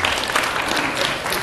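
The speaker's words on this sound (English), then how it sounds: "You can make a clap" Brief burst of audience clapping at an evening talk, a short dense patter of hands from a crowd at steady volume.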